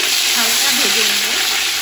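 Bright sizzling and crackling of whole garam masala spices frying lightly in oil and ghee for pulao, a close, steady hiss with a brief stir partway through.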